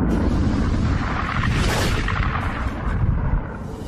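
A deep, rumbling supernova explosion roars continuously, swelling into a bright burst midway before settling into a heavy, low boom.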